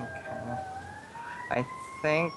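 A wailing siren in the video game Space Engineers rises and falls steadily in the background while a voice speaks briefly over it.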